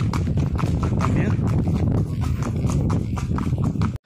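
Horse hooves clip-clop steadily and close while a rider travels on horseback along a rural trail in La Ladera, Guanajuato, with a continuous low rumble of movement underneath.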